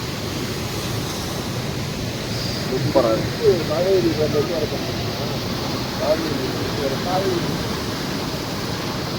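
Hogenakkal waterfall with water rushing down from the rocks above, a constant broad roar filling the scene while someone talks briefly over it.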